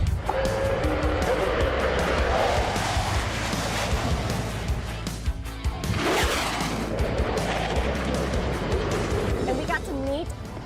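Navy Blue Angels jet at an air show taking off with afterburners lit, a loud continuous roar with a sweeping rise midway, heard close under radio-style talk throughout.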